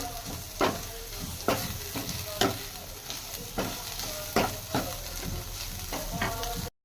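Village-style snails (nathalu) fry crisp in a pan. A continuous sizzle is punctuated by regular spatula scrapes and knocks roughly every half second, close and clear with no talking.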